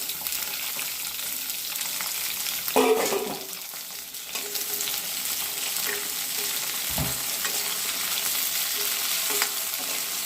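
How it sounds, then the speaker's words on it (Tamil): Small onions, dried red chillies, tomato and curry leaves sauté in hot oil in a wok, giving a steady close sizzle broken by a few louder stirring scrapes and clatters. "எல்லாத்தையும் ஒன்றா வானலில் போட்டு நல்லா வதக்கிக்கணும்"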